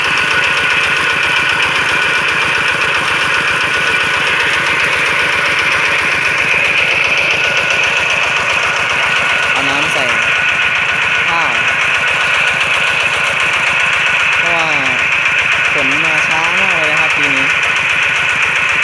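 A water pump engine drones continuously at a constant mid pitch, rough and throbbing, pumping water into a rice paddy, with a few faint birdlike chirps and wavering tones over it outdoors.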